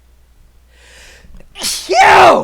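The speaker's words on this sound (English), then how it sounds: "that was a sneeze." A single loud, close human sneeze with a quick breathy intake before it and a sharp burst at the end.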